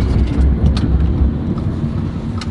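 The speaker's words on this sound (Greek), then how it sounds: "Από τα 110 χιλιόμετρα την ώρα πατάω δυνατά το φρένο." A 2010 Audi A5 Sportback 2.0 TFSI quattro S-tronic brakes hard from 110 km/h: a heavy, continuous low road-and-tyre rumble inside the car that eases slightly, with no audible squeal.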